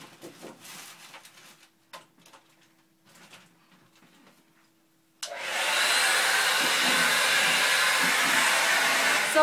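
A hair dryer blowing on a cool setting to dry hair switches on abruptly after a few seconds of quiet handling noises, then roars loudly and steadily up close until the end.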